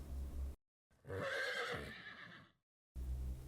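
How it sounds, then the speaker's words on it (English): Horse giving one loud whinny with a shaky, falling pitch, set between short bursts of low background rumble and brief silences. "horse,"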